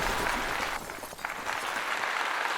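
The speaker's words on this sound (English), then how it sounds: "Y'all give yourselves a round of applause." Applause from an audience at a podcast taping, a dense steady wash of clapping that carries on for several seconds, dips briefly partway through, then continues loud and close.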